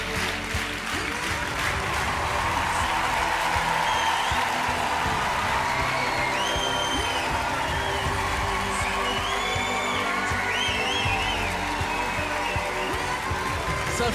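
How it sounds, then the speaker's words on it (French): A talent show audience in France breaks into long, sustained applause, dense and steady for the whole stretch, with cheers and whoops rising above the clapping crowd. "Il n'y a jamais eu un applaudissement aussi long pour aucun artiste depuis 8 ans."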